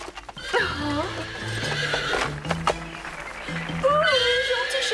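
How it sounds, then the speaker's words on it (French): A horse in the Cinderella film whinnies in several rising and falling calls over a low murmur of background sound, with a few hoof clops, heard fairly close. "Oh, gentil cheval, regarde ce que j'ai là pour toi."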